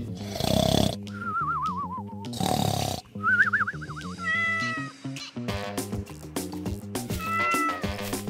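A cartoon-style cat gives several drawn-out, wavering meows, loud and close, separated by short pauses over steady background music.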